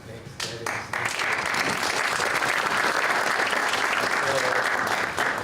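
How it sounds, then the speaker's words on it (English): Audience applause follows a speaker introduction at an academic talk; a brief voice opens before a dense, sustained wash of clapping rises and holds steady, with faint talk underneath near the end. "The clapping goes to Dennis and Betsy for initiating this whole thing."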